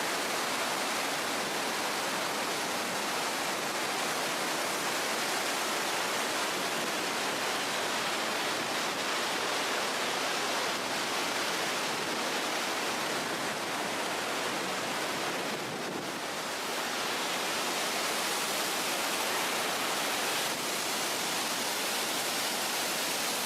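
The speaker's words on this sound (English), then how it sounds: "Once in a life you must go and see this waterfall." Iguaçu Falls in Brazil, a massive waterfall, roaring as a dense, constant wash of noise that stays loud and unbroken for over twenty seconds with no voices.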